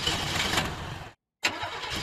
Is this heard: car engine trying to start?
yes